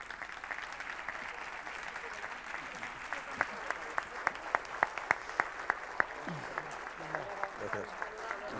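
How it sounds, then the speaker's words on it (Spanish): An audience at a conference opening session applauds to welcome a speaker, a dense, even clapping that lasts throughout, with a few sharper individual claps standing out in the middle. "le recibimos con un aplauso"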